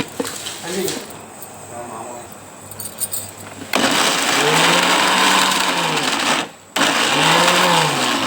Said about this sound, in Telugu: ఇట్లా ఉప్పు వేసుకొని మిక్సీ పెట్టాలి